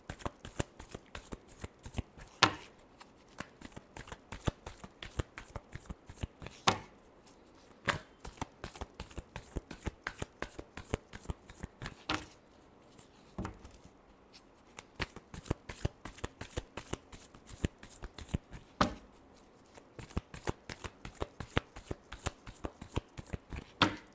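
Tarot cards being shuffled by hand for a Capricorn reading, a steady run of crisp riffling flicks and snaps that carry on for the whole stretch with only brief pauses, close up and with no voices.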